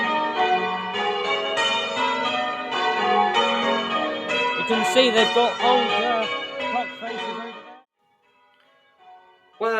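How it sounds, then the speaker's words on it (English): Loud church bells ring out from the tower at Milland during a Southern District ringing outing, a dense overlapping peal for most of the clip before stopping abruptly, with a person speaking over it. "how loud the bells are"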